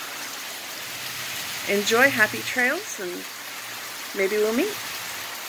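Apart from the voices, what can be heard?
rain falling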